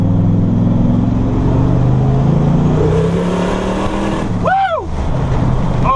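A boosted diesel truck with a 1400HP fuel system roars through a partial pull, its loud engine climbing steadily in pitch under constant wind and road noise before a brief dip near the end.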